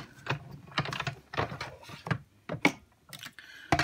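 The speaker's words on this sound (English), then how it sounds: "I'm going to roll it through the Big Shot" Big Shot die embossing machine being cranked to cut paper for a handmade Christmas card, a quick series of close, soft clicking and thunking knocks at an uneven rhythm.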